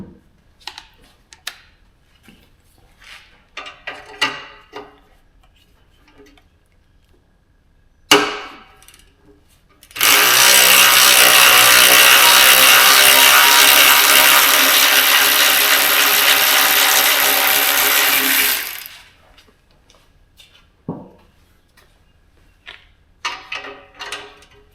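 A power impact tool unbolting a car part with a socket, scattered close clicks and taps, then a sharp knock and a loud, steady whirring buzz for about eight seconds before more light clinks.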